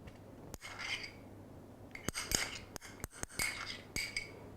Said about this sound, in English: we're then going to just pick up the saucepan and pop it in under the grill